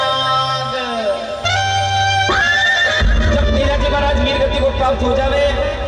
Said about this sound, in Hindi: लीलन घोड़ी उनकी जो घोड़ी थी वो रोने लगे साहब।